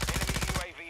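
Rapid automatic gunfire in a video game, a fast burst of close, loud shots in a steady rhythm that cuts off abruptly, followed by a brief quieter tail.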